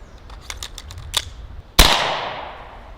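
AEA Defender 2 air rifle with a short barrel fires once at a target ten yards away: a few light mechanical clicks, then one loud, sharp close crack whose echo decays over about a second.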